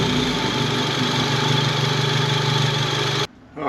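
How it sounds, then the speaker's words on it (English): An Audi S3 8V, just refitted with new boost pipes, idles with a steady, even engine hum and a low drone, then cuts off abruptly near the end. "we can get the car started, see if it's all happy, give it a few revs"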